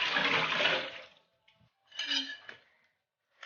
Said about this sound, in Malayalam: ഇനി 2-3 വെള്ളത്തിൽ ഇതിൻ്റെ കറ കളയുന്നത് വരെ നമുക്കത് കഴുകി വൃത്തിയാക്കി എടുക്കാം.